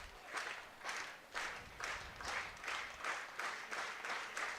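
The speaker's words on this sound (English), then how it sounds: "Another slow clap starting." Crowd at a minor-league baseball game between the Decatur Bean Ballers and the Lafayette Aviators clapping slowly in unison, about ten rhythmic claps roughly every half second, distant and fairly faint over an open-air murmur.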